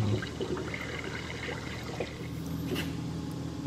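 Old engine oil drains from the oil pan of a 2006 Chevy Aveo in a steady, faint trickling pour, continuous and close, with no talk.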